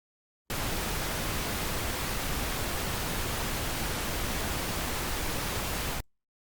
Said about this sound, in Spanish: Ahora vamos a encender un ruido rosa.